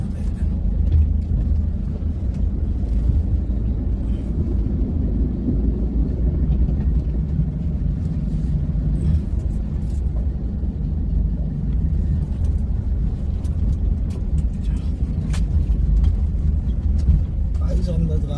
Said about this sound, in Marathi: कशी चालवायची गाडी खड्ड्यात बघा.